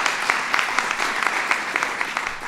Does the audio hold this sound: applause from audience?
yes